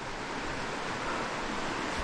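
A rushing, swollen mountain stream in Montana runs high, giving a steady, dense broadband roar of water that stays constant and close with no voices.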